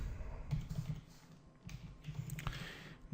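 Soft, quick clicks of typing on a computer keyboard come in short bursts, faint and close, with a low background hum.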